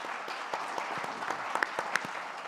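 A conference audience gives a round of applause, heard as a faint, steady wash of distant clapping that lasts the whole stretch, with a few sharper claps standing out near the end.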